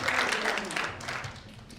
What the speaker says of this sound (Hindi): इनके लिए 2 जोरदार तालियां बजाएं, बहुत जोरदार